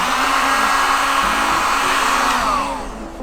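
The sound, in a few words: heat gun heating vinyl wrap on a car hood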